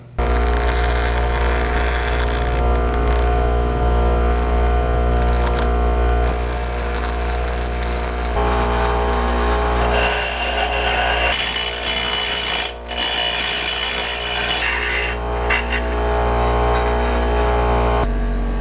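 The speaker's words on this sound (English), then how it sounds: "we'll just go grind these two pieces right here" A power grinder runs loud and steady, taking plastic nubs off Axial SMT10 RC axle pieces, with a continuous whine that shifts pitch as the tool bears on the plastic.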